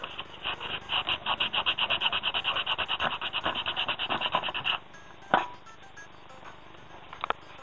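Coarse P120 sandpaper rubs over scooter bars and deck parts in fast, even back-and-forth strokes for several seconds, then stops, followed by a few sharp knocks and scrapes nearby.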